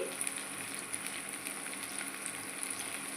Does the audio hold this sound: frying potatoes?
yes